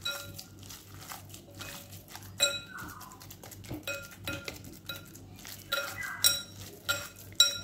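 A spoon stirs gram flour batter with a spoonful of white oil in a bowl, making irregular close clinks and scrapes against the bowl with brief louder knocks.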